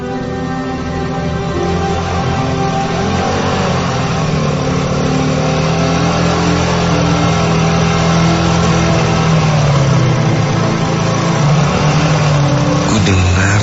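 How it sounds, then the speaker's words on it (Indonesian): A motorcycle engine hums steadily and fairly loudly, its pitch shifting slightly as it draws nearer, heard alone at night with no voices. "ada bunyi sepeda motor"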